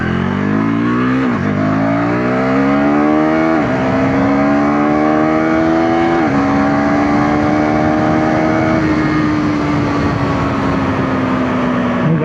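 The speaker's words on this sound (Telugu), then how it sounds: "సో ఒక్కసారి జస్ట్ 0 to 100 నేను కొట్టి చూపించేస్తాను మీకు." A KTM 390 Duke R motorcycle with traction control off accelerating hard from 0 to 100, its loud single-cylinder engine note rising through four or five quick gear shifts before settling into a sustained high-speed drone under rushing wind, with no talking.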